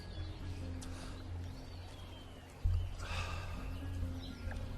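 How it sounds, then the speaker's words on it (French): A horse at a hacienda neighs and its hooves clop over a steady rural background with faint birdsong, the whinny rising more loudly partway through. "Je vais chercher le cheval."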